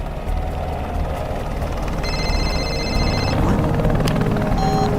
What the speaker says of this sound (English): a news helicopter circled overhead